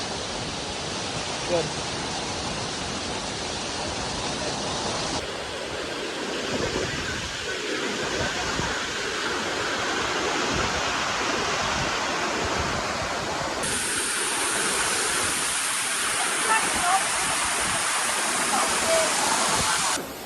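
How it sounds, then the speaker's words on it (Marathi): The Chopdewadi waterfall gives a loud, constant roar of falling water that fills the whole stretch evenly. People talk faintly beneath the rushing noise. "आता आपण धबधब्याजवळ आहे. धबधबा बघा."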